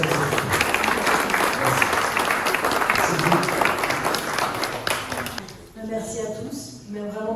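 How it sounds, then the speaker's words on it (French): Warm applause for an artist at a gallery exhibition, dense clapping for several seconds that fades out as a voice starts talking. "Moi, je voudrais bien qu'on l'applaudisse parce que c'est ça."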